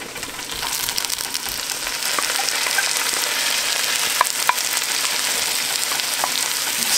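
A pound of shiitake and blue oyster mushrooms fries in butter with onions, giving a loud, dense, steady sizzle throughout with occasional light clicks of stirring.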